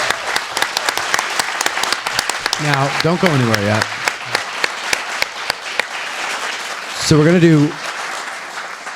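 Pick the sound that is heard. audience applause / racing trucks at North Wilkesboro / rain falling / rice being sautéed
audience applause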